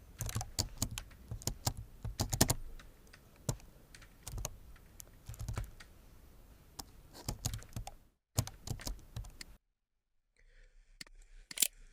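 Rapid clattering keystrokes on a computer keyboard while titles are filled into an Excel sheet, close and brisk in uneven bursts, then a pause and a few final taps.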